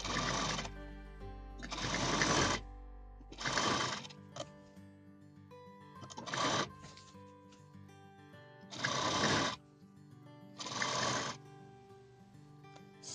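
A sewing machine stitches a fabric grocery bag in six short, loud, whirring bursts separated by quiet pauses, heard up close with no talk.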